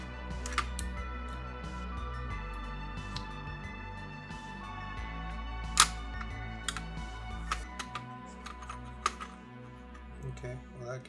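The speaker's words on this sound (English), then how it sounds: "We're just going to pull out the screws we can see." Screws being removed from a Super Nintendo (SNES) console during a teardown, with faint, sparse small clicks and ticks of the screwdriver over a steady low electrical hum.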